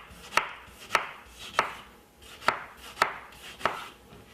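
A knife cuts through a large tomato on a board, six sharp, evenly spaced chops, close and crisp with short gaps between.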